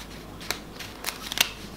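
Quiet papery clicks and brief crisp riffles as a deck of Daniel Madison Players playing cards is spread into a giant fan, a few sharp bursts close up against near silence.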